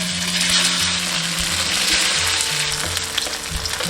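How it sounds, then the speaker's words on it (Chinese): Slices of turnip cake fry slowly in oil over low heat, giving a dense, continuous crackling sizzle close up that holds steady throughout with no speech. "下入萝卜糕，小火慢煎，"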